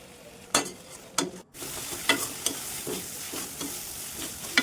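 Egg curry masala sautéing and being stirred in a pan after a splash of water: a soft steady sizzle broken by a series of sharp spoon scrapes and knocks every second or so, close and fairly loud, with no voices.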